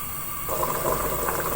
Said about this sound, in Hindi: अब बॉयल आ चुका है।